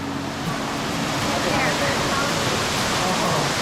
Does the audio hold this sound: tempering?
no